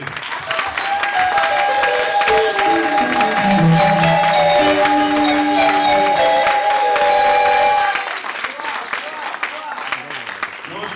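A church audience at a prophetic conference erupts in loud continuous applause and cheering over sustained musical tones, the clapping staying dense and full before easing off in the last few seconds.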